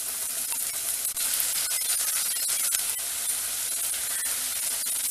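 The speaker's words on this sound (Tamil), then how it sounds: "தக்காளி பழம், தக்காளி நல்லா வதங்கட்டும்" Tomatoes sauté in a pan for a drumstick mango sambar, giving a steady, hissing sizzle close by with occasional soft stirring ticks.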